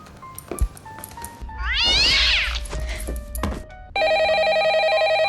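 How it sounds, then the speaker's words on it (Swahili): A cat lets out a loud, drawn-out angry meow lasting about two seconds. It is followed by a telephone ringing steadily. "paka ametoa sauti kubwa ya ukali"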